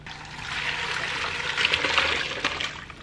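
Homemade chicken stock with vegetables is poured through a strainer into a big bowl, a steady close splashing and trickling of liquid that swells slightly toward the end.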